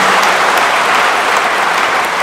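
Audience applause during a public speech by Chief Minister Nitish Kumar, a steady dense wash of clapping from a large crowd that stays loud and even throughout, with no voices over it.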